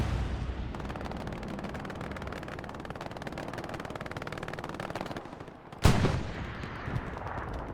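Rapid machine-gun fire rattles on in Hell Let Loose, a dense continuous burst of shots for several seconds, broken by a sudden loud explosion-like crack and then more scattered gunfire.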